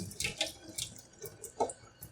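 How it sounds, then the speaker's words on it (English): Cool tap water runs and splashes in a sink to rinse freshly cooked Korean black bean noodles, a close, uneven patter of drips and spatters with no voices. "rinse with cool water"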